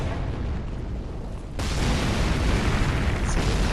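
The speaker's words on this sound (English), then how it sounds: "Let the ballista shoot down here on us." A heavy ballista bolt slams into a breakable floor in Dark Souls III, a loud booming impact that jumps in level partway through and leaves a thick rumbling roar afterward.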